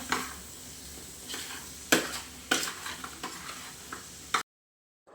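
Scraping stirs of a spatula mixing fried chicken into masala in a pan, several sharp strokes over a steady frying hiss, then it cuts off.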